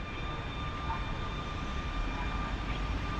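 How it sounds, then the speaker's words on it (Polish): A Katamaran passenger train pulls away from a platform at Warszawa Wschodnia station with a steady, rumbling drone and a faint high whine, heard at moderate distance without speech. "Jako pierwszy rusza pociąg katamaran"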